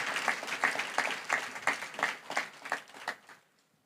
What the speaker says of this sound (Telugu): చప్పట్లు కొట్టి దేవుని మహింపరుస్తారా ఒకసారి గట్టిగా?